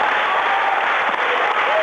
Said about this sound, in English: Enjoy the crowd once you've achieved the weight, Anders.